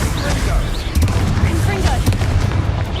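Repeated booming blasts from a Bombarda explosion spell in Hogwarts Legacy, loud and close amid a chaotic fight, with thuds and crackling impacts tumbling over one another.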